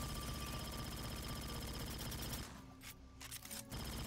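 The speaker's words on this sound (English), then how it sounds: "I will try to fire it now with overclock on." A Zvezda plasma rifle fires with overclock on in Aliens: Fireteam Elite, a dense, continuous rapid-fire rattle for a few seconds that breaks into a few stuttering last bursts before stopping.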